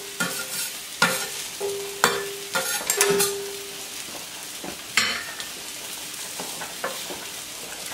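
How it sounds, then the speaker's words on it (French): Barbecue sauce made with Jack Daniels simmering gently at the corner of a plancha griddle, with a soft sizzle under repeated stirring scrapes and light clinks of a utensil. "on va laisser mijoter tout doucement sur le coin de la plancha cette sauce barbecue"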